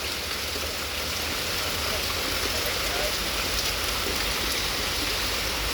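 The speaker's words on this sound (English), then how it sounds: "Rain is picking up again." Heavy rain during a night storm in Pittsburg, Kansas, a steady dense hiss of falling water that holds unbroken and loud throughout.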